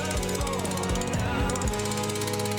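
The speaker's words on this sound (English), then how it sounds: "So now let's get to hollowing it out, and the first tool we're going to use is the mid-size number one hollower." Carbide hollowing tool, a mid-size hollower, cutting into an end grain wooden bowl on a lathe, a steady loud chattering scrape with a regular rhythmic pulse throughout.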